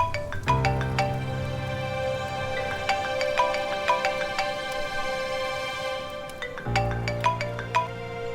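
Electronic phone ringtone repeating a bright melodic pattern over a low sustained tone, played loud and alone with no talking, pausing briefly near the end before starting again.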